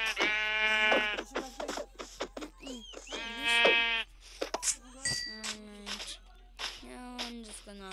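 Video-game sheep bleat several times in short wavering calls, mixed in with a person talking over the gameplay.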